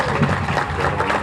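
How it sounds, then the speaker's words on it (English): Applause from an audience at a Cape Verdean flag raising, honoring the first Cape Verdean assessor; a dense, steady patter of clapping from a crowd for a little over a second, with possible voices mixed in. "Give him a nice round of applause."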